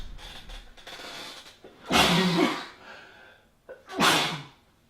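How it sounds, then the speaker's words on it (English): Two sneezes from a person who is sick, each a loud close burst with a sharp intake before it, spaced about two seconds apart with quiet breathing between. "I think I'm going to sneeze."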